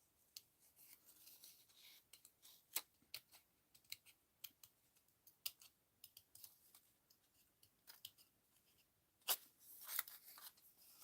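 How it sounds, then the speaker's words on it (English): Sharp scissor snips cutting paper for a small paper doll in an art journal, coming as irregular quick cuts with short pauses, close and fairly quiet, with no talking. "Get down to the tip of my scissors there."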